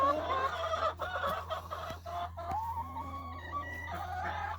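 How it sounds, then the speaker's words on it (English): Noisy poultry cluck and call inside a farm coop, a busy chorus of overlapping squawks over a low steady hum. "those noisy ducks"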